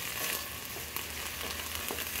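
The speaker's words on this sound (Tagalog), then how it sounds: "Sotay-sotay natin ang chanterelle." Chanterelle mushrooms sautéing in a hot pan, a steady dense sizzle with occasional soft stirring clicks, close and continuous with no voices.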